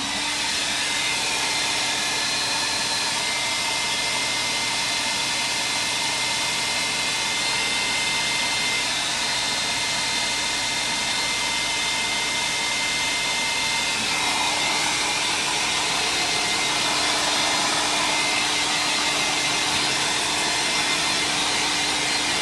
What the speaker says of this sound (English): And even a hairdryer doesn't really dry spray paint that fast.